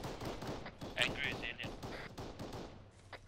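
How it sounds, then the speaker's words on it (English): Gunfire in the military shooter Arma 3: a few sharp shot bursts at moderate distance, with soldiers' voices talking over the action. "I'm hearing shots fire."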